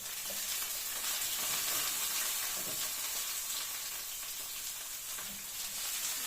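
Steady sizzling and crackling of eggplant frying in a hot pan, with occasional small pops as its juice spits over a constant hiss.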